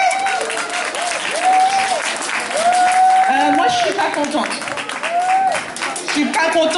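An audience at a salon award ceremony claps steadily throughout as a first prize for video creation is announced, while someone speaks over the applause.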